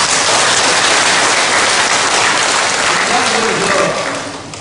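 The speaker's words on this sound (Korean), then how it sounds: "박수를 보내주시기 바랍니다" A large audience at a lecture bursts into loud, dense applause, a roaring wall of clapping that holds steady and then begins to taper off, with voices mixed in.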